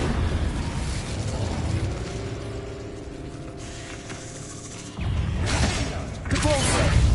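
Incendio fire spell cast in a Hogwarts video game, a whooshing burst and rumbling blast swelling near the end over steady game ambience, with a sharp flare after a brief lull.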